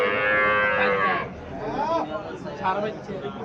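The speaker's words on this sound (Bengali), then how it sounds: "এখানে ফিজিয়াম জাতের গাভী এখানে দেখা যাচ্ছে" A Friesian cow moos loudly at the start, followed by more distant lowing calls with people talking in the background, at Chandimura cattle market in Barura, Comilla.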